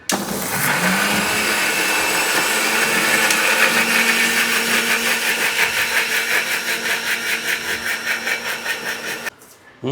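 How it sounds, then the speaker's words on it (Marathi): A new mixer grinder grinding spices whirs loudly and continuously, its motor pulsing slightly as it churns, then cuts off abruptly near the end. "आमचा नवीन मिक्सर आहे, मसाला पिसून घेणार आता."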